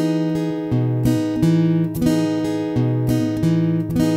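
An acoustic guitar plays the chords of a song slowly, alternating bass notes with down and up strums in a steady, loud, close rhythm, with no voices.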